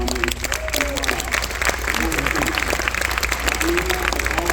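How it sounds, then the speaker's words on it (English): Applause at a North Miami Beach City Commission swearing-in ceremony for two honored people: steady, dense clapping from a crowd, moderately loud and continuous throughout, with some voices mixed in underneath. "Susie Smith and Nancy Cliff need a round of applause for everything they did for me"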